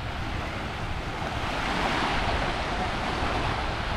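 Sea waves wash onto the beach at Cua Dai in Hoi An, a continuous broad rushing surf with some wind buffeting on the microphone, steady and moderately loud, with no voices.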